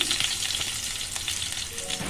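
Garlic cloves sizzling in a couple of spoons of hot oil in a pan for a tempering with cumin and mustard seeds, a steady close crackling fry with faint stirring and no voices.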